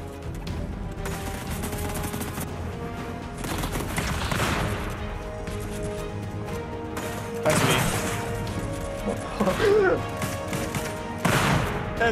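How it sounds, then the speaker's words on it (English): Rapid bursts of Fortnite Mobile gunfire crackle in repeated volleys over steady background game noise, heard through another player's device, loud and close, with brief pauses between firing. "Oh, I hear myself shooting through your device."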